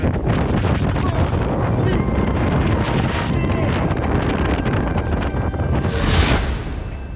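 Strong wind buffets the microphone in a loud, continuous roar with gusting swells, briefly peaking near the end.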